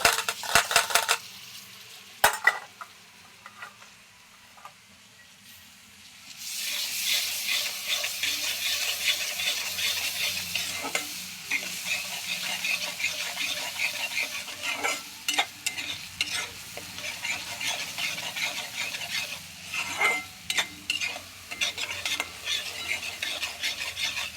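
Finely chopped onions and tomatoes go into a hot pan for a Punjabi drumstick curry, then a loud continuous frying hiss with repeated clinks and scrapes of a spoon against the pan, close up and without speech.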